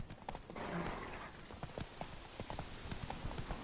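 Roach, the horse in The Witcher 3, gallops with quick, rhythmic hoofbeats close by over a dense game soundscape, with faint voices beneath.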